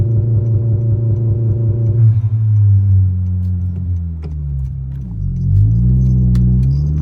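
An 11th generation Honda Civic Si engine sits loudly at a steady held rev on launch control, then the pitch sags and wavers before climbing again, close and alone with no voices.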